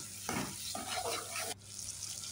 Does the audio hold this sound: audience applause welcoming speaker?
no